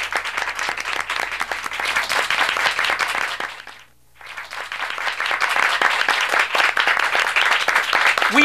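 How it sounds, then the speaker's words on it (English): A live studio audience for a variety show broadcast from a Greenwich Village venue applauds loudly, a thick continuous roar of clapping that briefly drops to near silence midway, then swells back up just as full. "as you heard from the applause, we have our mystery guest here"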